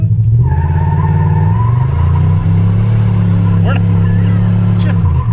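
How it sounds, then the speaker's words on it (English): An abandoned limousine running on nitrous roars in a sustained, loud burnout, its engine droning steadily at high revs with tire squeal throughout, while people talk over it. "it's just doing a huge burnout"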